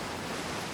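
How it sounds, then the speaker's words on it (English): Waterfall in Outer Wilds, a steady, loud, broadband rush of falling water heard from right beside it. "waterfall. I mean, they do tend to be loud when you're like right next to them."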